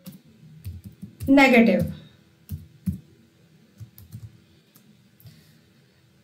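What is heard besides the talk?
typing Python code on a computer keyboard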